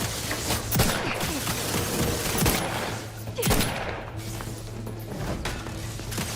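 Gunfire rattles in The Outer Worlds 2 video game, a steady fusillade of shots with sharp louder bursts spread across the clip, moderately loud with no talk.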